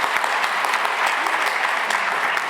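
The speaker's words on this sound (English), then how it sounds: "I think you can give an applause for that." Audience applause at the xTEF AI testing and experimentation event in Berlin, a steady dense wash of many hands clapping at once, close and continuous with no talk.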